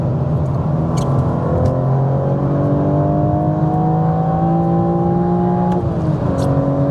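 A loud 2021 BMW M4 3-liter six-cylinder engine revs steadily upward in a sustained, rising whine, then drops briefly before climbing again; close and continuous, no voices.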